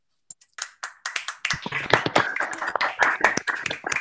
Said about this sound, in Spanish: le demos un aplauso de despedida a nuestros charlistas